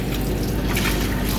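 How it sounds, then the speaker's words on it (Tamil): Water is poured steadily over gloves to rinse them, producing a continuous close trickling and splashing flow that is moderately loud throughout. "தண்ணி ஊற்றுறாரு ப்ரோ"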